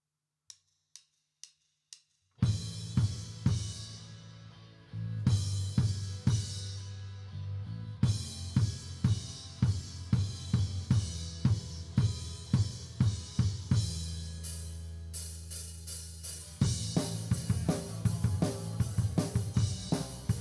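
Drums captured on stage microphones: four count-in clicks, then a full kit groove with kick, snare and cymbals, bass and guitar bleeding faintly underneath.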